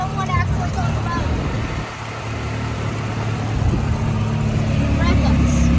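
Car engine droning and rising steadily as a learner driver presses the accelerator during a first driving lesson, close and continuous, with people talking over it.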